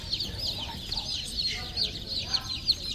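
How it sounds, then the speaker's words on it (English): A crowd of baby chicks, including black sex links, peeps in a steady high-pitched chorus of many overlapping chirps, close by and continuous, with a person murmuring faintly underneath. "There's so many chicks."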